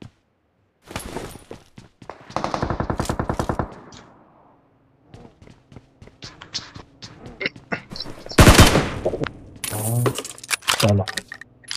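Bursts of automatic gunfire in BGMI on the Erangel map: a rapid sustained volley, then scattered shots and a loud cluster of cracks later, with keyboard-like clicking mixed in.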